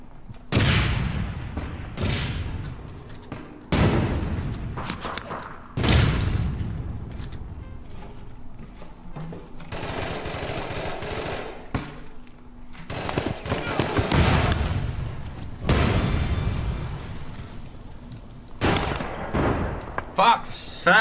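Gunfire and grenade blasts in an online urban shooter video game, with loud repeated bursts of shots and heavy booming explosions in clusters, close and harsh, while a player shouts over the chaos.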